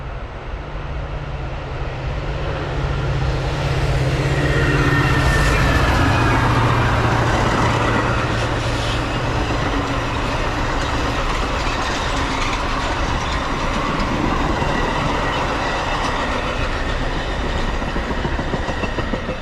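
A Metra commuter train rolls past on the BNSF line during a snowstorm, its steady loud rumble and rail clatter filling the whole span with a low droning tone, heard alone without voices.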